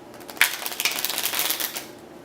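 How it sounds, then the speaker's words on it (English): A quick riffle shuffle of a brand-new deck of playing cards, a burst of rapid fluttering clicks that builds and fades over about a second and a half, up close. "And so let's give it a shuffle."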